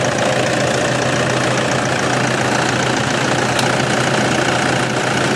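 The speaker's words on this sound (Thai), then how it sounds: "เครื่องนิ่มมากครับ" The 2.5-litre diesel engine of a 2012 Toyota Vigo Champ 2.5 E cab pickup idles with a steady, loud, low rumble and a faint knocking beat, close up and without talk.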